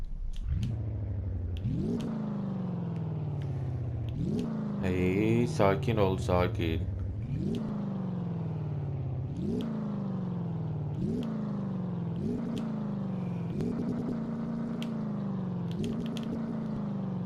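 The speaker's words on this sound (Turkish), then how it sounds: "şöyle bir gaz verelim" A Ford GT40 engine in the Car Mechanic Simulator game, revved repeatedly in rising sweeps that fall back to idle, about ten surges in a row, with a voice briefly heard in between.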